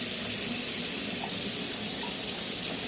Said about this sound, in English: I will literally just run the water over the top of it here.